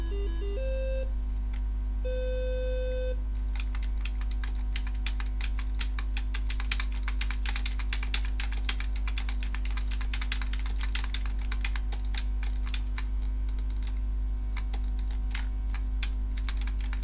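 Rapid, repeated key presses on a Thomson TO8 computer keyboard while playing a 1985 sports video game, clicking steadily over a constant hum, with a few short game beeps at the start.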